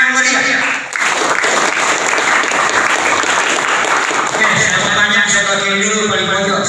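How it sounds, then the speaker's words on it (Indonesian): Junior high school students at a scout lesson break into loud, lively applause that fills the room, with a voice briefly audible over the clapping. "Tepuk tangan yang meriah."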